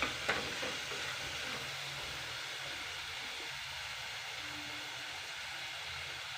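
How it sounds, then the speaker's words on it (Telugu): Onion pieces frying with turmeric and ginger for a chicken curry give a steady, faint sizzle with a soft clatter at the start, continuing alone without talk. "పచ్చివాసన పోయే వరకు ఫ్రై చేయాలండి ఈ ఉల్లిపాయ ముక్కలని"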